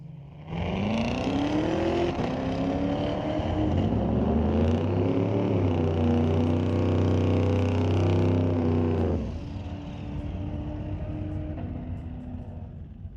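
A C7 Corvette on a drag strip at Mission Raceway Park makes an ET Series run, its engine roaring and rising through the gears for several seconds, then cutting back to a lower fading rumble as it passes.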